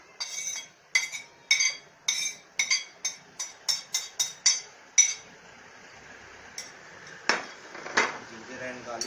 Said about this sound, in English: Take one bowl, big bowl, and put all the